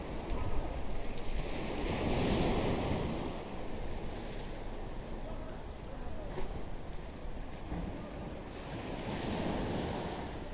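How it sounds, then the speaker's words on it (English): Sea waves wash onto the beach at Portals Nous, Mallorca, a continuous soft roar of surf rising and falling, mixed with wind buffeting the microphone and faint voices in the background. "so you can see that there are some waves, but it's really not too bad on this side"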